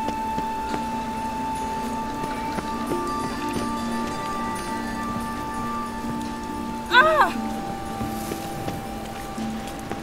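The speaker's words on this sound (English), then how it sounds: "It just rains and rains." Steady rain falls in The Witcher 3: Wild Hunt, a soft even patter under a low hum of game ambience, briefly broken by a short warbling call near the end.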